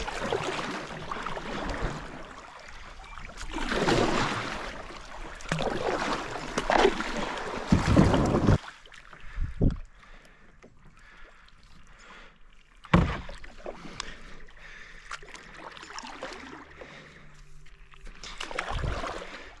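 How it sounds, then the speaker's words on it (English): Kayak paddling down a river, with intermittent splashes and water sloshes, fairly close and moderately loud, interrupted by a few sharp knocks against the hull and quieter stretches of flowing water. "Just as we're kayaking down here"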